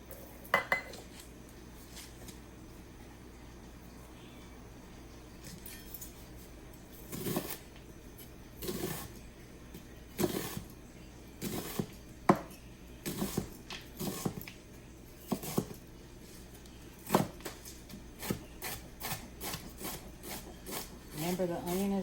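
Knife chopping an onion on a board while preparing fettuccine Alfredo, a string of sharp irregular cuts that pick up pace toward the end, close and moderately loud with quiet kitchen room tone between strokes.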